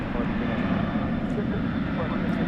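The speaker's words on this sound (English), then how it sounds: "That is American Flight 1607 going to El Paso, a 737-800" An American Airlines Boeing 737-800 jet at DFW airport gives off a steady, broadband engine roar, loud and unbroken, with a voice talking faintly underneath.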